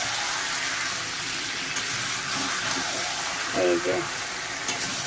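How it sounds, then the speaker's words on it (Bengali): Mutton sizzles and spatters steadily in an oil-filled wok as it is stir-fried, with a short burst of scraping and brief speech over the constant frying hiss. "এক হাতে অসুবিধা হচ্ছে, কড়াই না ধরলে নাড়া যাচ্ছে না।"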